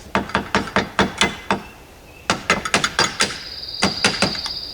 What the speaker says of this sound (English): I'm just going to use my metal hammer and lightly tap it.